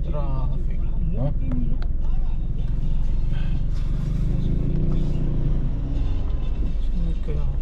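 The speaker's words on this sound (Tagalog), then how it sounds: "Traffic dito sa may San Fernando" Road traffic in San Fernando: a steady, dense engine rumble with passing vehicles and scattered tonal sounds, running under near, continuous talk throughout.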